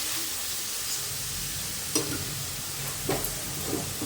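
Masala paste for hariali chicken sizzling in oil as it is stirred and browned, a constant close crackle broken by a few sharper scrapes of the spoon against the pan, no talking.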